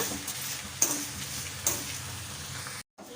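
Dal, dried red chillies and fenugreek roast in a pan, a soft steady crackle with two sharp metallic clinks of a spatula, a brief cut to silence near the end.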